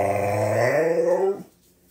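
A husky dog growls and vocalizes up close with a rising, talkative, moaning tone that swells over about a second, then breaks off abruptly into near quiet.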